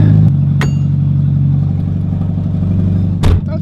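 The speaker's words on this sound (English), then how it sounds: "we are running open downpipes. It's gonna be stupid, stupid loud." A Mazda Miata engine running open downpipes, with a loud, raw, rumbling idle that swells into a sharp rev blip near the end, punctuated by a couple of brief clacks.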